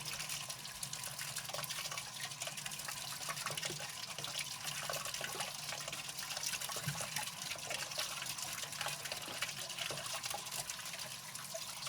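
Tap water runs steadily into a bowl for rinsing salmon roe, a continuous close gushing and trickling stream at low level with no talk.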